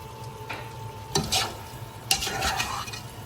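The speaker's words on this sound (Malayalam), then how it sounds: "ഞാൻ ഇളക്കി കൊടുക്കാം" A spoon scraping and stirring rabbit roast in a pan while it sizzles, with a few distinct stirring strokes and clatters over a steady frying hiss, close and without talk.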